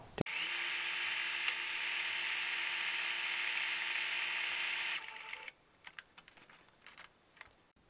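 A Singer Fairy Land 9800 embroidery machine stitches lettering with a loud, steady mechanical whir and buzz for about five seconds, then stops, followed by scattered small clicks and taps of the mechanism.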